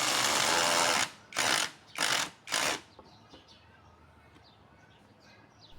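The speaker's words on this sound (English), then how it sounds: "I add a screw to secure the joint." A power driver sets a screw into a wooden tripod joint with a close whine of about a second, followed by three short bursts, then quiet room noise with faint bird chirps.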